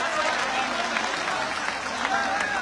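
A crowd at a Maratha community gathering claps loudly in a dense, continuous wash of applause, with voices mixed in throughout.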